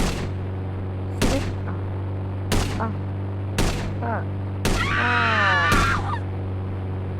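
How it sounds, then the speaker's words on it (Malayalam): Six sharp sniper-rifle gunshots in a police video game crack at irregular intervals over a steady electronic hum, with a voice and a warbling honk between shots. "വെടിവെക്കാം."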